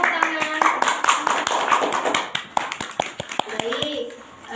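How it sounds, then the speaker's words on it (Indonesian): Classroom applause for a student, Naya: a handful of distinct, separate claps tapping out at a moderate level, mixed with children's voices and gradually thinning out. "Beri tepuk tangan"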